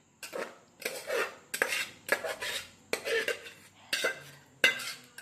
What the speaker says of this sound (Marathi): बघा मी पीठ कसं मळून घेते घारे करण्यासाठी